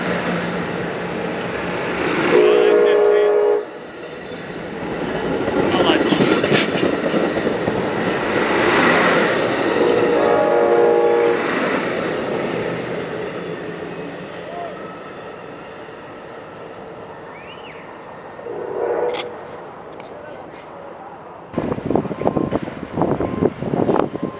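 Train number 769 pulls away from a station, its rumble and rail clatter rising and fading over about twenty seconds, with brief horn-like tones and a few sharp knocks near the end.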